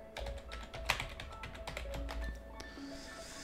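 Quick, uneven typing on a computer keyboard set to an English layout, a run of close clicking keystrokes with a few louder taps, no voice over it.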